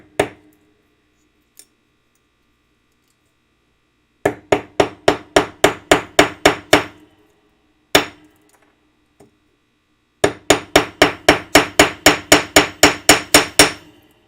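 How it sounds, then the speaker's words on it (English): Hammer striking a rivet to set it flat, two fast bursts of about ten sharp metallic blows each, with a few lone taps in between, loud and close. "pull out our hammer, and we're just going to rivet this in place"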